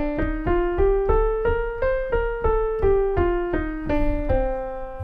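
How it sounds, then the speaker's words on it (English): A Dorian minor scale rings out note by note on a pitched instrument, rising step by step and then descending again in an even, steady rhythm, clear and alone with no talking. "Dorian minor sounds like this."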